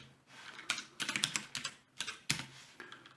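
Fingers tap out a name on a computer keyboard in quick irregular bursts of clicks, close and fairly soft, with short pauses between groups of keystrokes.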